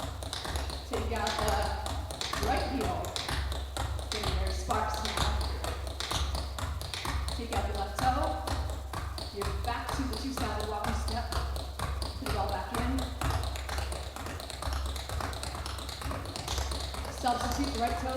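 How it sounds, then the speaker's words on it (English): Toe and heel tap dancing steps ring out in a steady, sparse rhythm of crisp taps, close and fairly loud, with talking running under them throughout. "if you take this rhythm and you take out and add in different toe and heel sounds, you'll start to tell stories with your feet"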